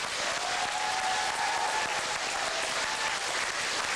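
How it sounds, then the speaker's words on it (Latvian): An audience claps in loud, continuous applause, a dense and steady ovation filling the whole stretch, with no voices standing out. "lūdzu, skaļas aplausus un pateicības ovācijas Jānim."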